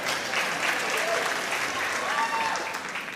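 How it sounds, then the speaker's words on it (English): Audience applause at a Teacher of the Year award ceremony for elementary school teachers, a steady sustained clapping from a crowd filling the room for a few seconds. "Y'all can clap for that."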